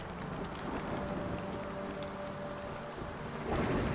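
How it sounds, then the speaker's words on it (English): Steady in-game rain pours in a constant hiss with a low rumbling undertone, swelling slightly louder near the end, with no voices present. "I love the sound of the rain."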